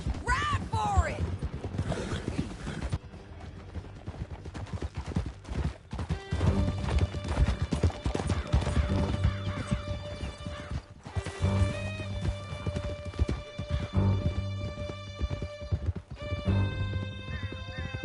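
Galloping horses in Red Dead Redemption pound out a steady clip-clop of hooves through a canyon chase, with a whinny early on and music and effects layered over the hoofbeats.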